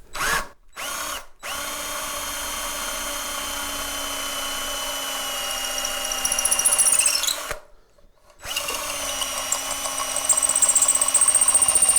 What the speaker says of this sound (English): I'll put a piece of tube over the drill bit and run it inside that